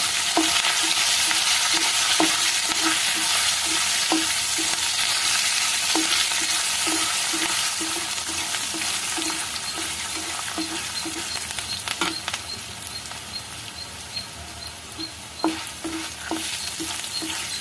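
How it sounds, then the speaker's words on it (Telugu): Mustard seeds, cumin, dried red chillies and green chillies fry in hot oil for semiya lemon pulihora, a loud continuous close sizzle dotted with regular popping crackles and occasional stirring, no talking. "కొంచెం ఆవాలు, జీలకర్ర, ఎండుమిరపకాయ, పచ్చిమిరపకాయ అన్నీ వేగాలండి."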